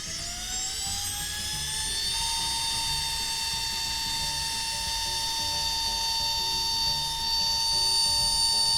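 Flextail Zero electric air pump running: a high-pitched motor whine that spins up over the first two seconds, then holds a steady, fairly loud buzzing drone, no voices.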